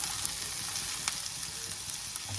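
Onions and garlic frying in a pan for an omelette onion tempering dish, a steady close sizzle with faint crackles and occasional soft stirring clicks throughout.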